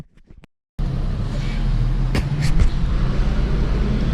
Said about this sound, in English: I love the fact that this car is hella quiet